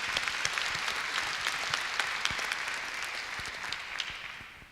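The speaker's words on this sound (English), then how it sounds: "Let's applaud him." Audience applause at the opening of a physics conference plenary session, a dense, steady patter of many hands clapping that gradually fades toward the end, with no talking.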